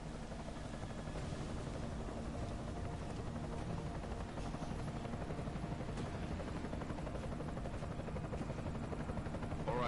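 An enemy helicopter in the game Deus Ex: Mankind Divided drones with a continuous rotor thrum and engine roar, a steady dense wash filling the whole stretch with no talking.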